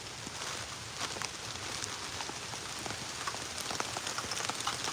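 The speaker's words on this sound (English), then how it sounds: "It's raining like crazy too." Heavy rain pours outdoors in a continuous dense patter with scattered sharper drop hits, steady and close, no talking.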